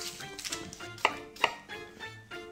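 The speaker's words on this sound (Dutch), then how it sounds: "En heel belangrijk als je shallotjes snijdt, is dat je met een heel scherp mes snijdt." Shallots being finely chopped with a sharp knife on a board during oyster cocktail preparation: a few spaced, crisp blade taps close up, with two sharper knocks in the middle, no talking.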